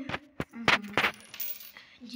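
Small coins clink and jingle as they are handled during an indoor search, a few quick metallic taps close by, with a brief voice murmur between them.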